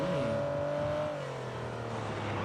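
A vehicle engine in the video game PUBG drones steadily, loud and close, its pitch easing down slightly partway through as it runs without pause.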